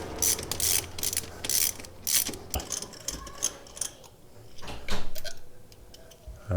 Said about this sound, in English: with our 5/8 spark plug removing socket, we'll just go in